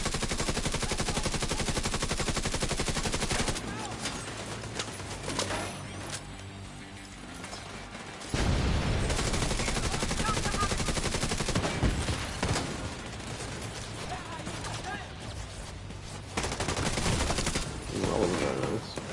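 Gunfire in the video game The Division 2, a dense nonstop barrage of rapid automatic shots and clattering mechanical effects, loud and continuous with brief dips in intensity.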